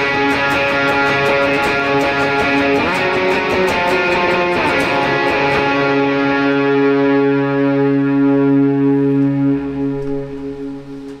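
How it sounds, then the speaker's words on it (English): Electric guitar through an overdrive pedal on a Valeton GP200 multi-effects unit, ringing sustained distorted chords with some bending movement early on, loud and alone, fading slightly at the end. "for the intro, I just engage the overdrive pedal."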